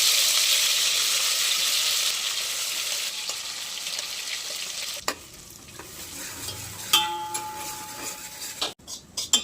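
Ground spice paste drops into hot oil already crackling with mustard seeds and garlic, a strong hiss that fades over several seconds, followed by stirring clicks and spoon taps against the pan.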